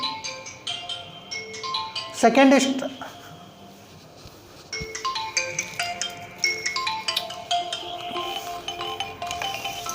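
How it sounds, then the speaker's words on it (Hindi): A mobile phone ringtone sounds for an incoming call during a classroom lecture, a bright repeating melodic tune playing for several seconds while a voice talks over it. "ये फ़ोन आ रहा है किसका?"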